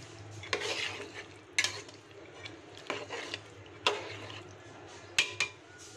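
Beef cooking with chana dal in a pot, stirred with scrapes and clinks of a utensil in several separate bursts over a soft, steady sizzle, close and quiet with no talk.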